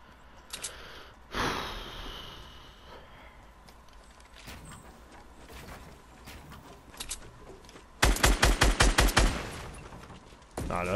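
Fortnite gunfire heard up close: scattered single shots, then a fast, loud burst of rapid automatic fire near the end of a duo match.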